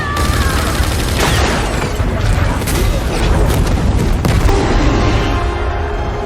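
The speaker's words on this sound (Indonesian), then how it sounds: "berhasil mengenai sebuah kotak yang menyebabkan ledakan besar serta melemparkan semua musuhnya" A loud, sustained explosion roars with heavy rumbling and crackling debris, mixed with bursts of gunfire and scattered impacts throughout.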